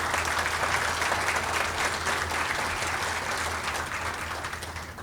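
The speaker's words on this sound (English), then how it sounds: "can we give them a round of applause and thank them for their support?" A conference audience at a manufacturing day keynote applauds the platinum sponsors, a full, even burst of clapping from a sizable room that holds steady and slowly tapers toward the end.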